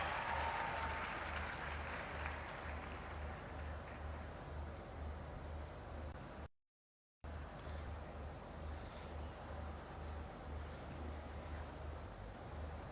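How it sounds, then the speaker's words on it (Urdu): Sustained applause from a large audience at a government ceremony addressed by the Punjab Chief Minister, a dense steady wash of clapping over a low hum, broken by one brief dropout midway. "ایک بار پھر سے زوردار تالیاں"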